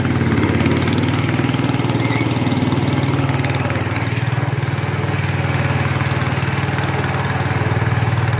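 A 1967 Sears Custom 6 garden tractor just back from a transmission repair runs with a steady, loud, low-pitched engine drone and an even putter that holds without a break, close by.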